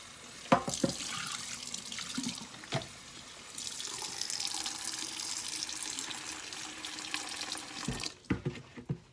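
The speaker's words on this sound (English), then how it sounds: "I'm going to go ahead and get this container in the sink. Get it rinsed out" Water runs from a tap into a sink while a container is rinsed, with a few clunks and knocks before and after the flow.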